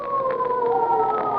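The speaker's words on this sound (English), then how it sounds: "Hey, police sirens." Wailing police sirens from a 1940s radio drama, two steady rising-and-falling tones sustained loud and continuous throughout, with no voices over them.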